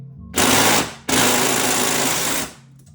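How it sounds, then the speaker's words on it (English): A Black & Decker impact gun hammers at engine side cover bolts on a drift trike engine build, giving two loud, close, continuous rattling bursts, a short one, a brief pause, then a longer one that winds down. "my darn impact gun is not strong enough"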